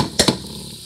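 Tomato paste hitting hot oil in a pot, with two quick bursts of sizzling and stirring close by, then the sound fades to a quiet hiss.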